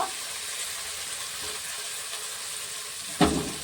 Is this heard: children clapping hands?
no